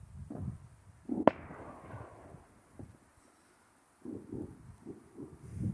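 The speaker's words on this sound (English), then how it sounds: "there was a really good firework just went off over there then." Fireworks going off on Bonfire Night over Scarborough, with a sharp distant bang followed by scattered softer pops and crackles and outdoor wind noise in between.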